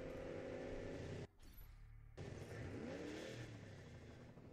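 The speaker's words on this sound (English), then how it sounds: "Is that a motorcycle?" A motorcycle engine revs in the video game Bulletstorm, a loud, close roar that cuts out briefly, then returns with rising and falling pitch as it accelerates.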